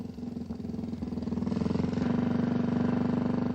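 A BMW R2 motorbike with a horizontally opposed twin engine and shaft drive, running close by with a steady, throbbing idle that rises slightly and holds at an even pulse.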